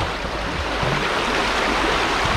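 Steady broadband rush of a flowing river current where people are bathing and swimming, a continuous close wash of water with no pauses and no talk.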